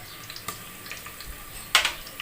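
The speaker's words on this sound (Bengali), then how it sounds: "পেঁয়াজের কালারটা পরিবর্তন হয়ে আসছে, এবারে দিয়ে দেব আদা রসুন বাটা" Onion with cumin and ginger-garlic paste frying in a pan for chicken haleem, a soft steady sizzle with light stirring scrapes and a brief louder clatter near the end.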